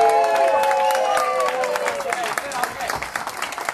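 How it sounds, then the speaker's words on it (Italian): Audience applause for a performer at an Italian stage show, dense clapping and some cheering that swells then gradually thins out, with a voice speaking over it. "grandissimo applauso ancora per Iacentino Rossi."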